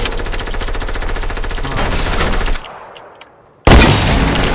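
Rapid automatic gunfire from the Fortnite video game, loud and continuous bursts for over two seconds, a brief quieter gap with scattered shots, then a sudden loud burst resuming.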